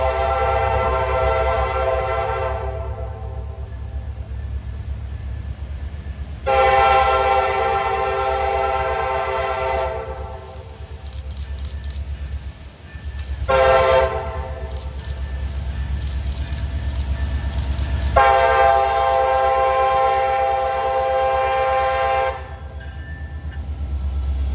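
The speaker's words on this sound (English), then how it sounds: "4091 would now be the new leader for the return trip back to Jacksonville as they come back up on the main, rolling through to get in the clear for Amtrak 97" A freight train led by locomotive 4091 rolls along the main line near Palatka, a steady heavy rumble with several long loud horn blasts sounding in sequence.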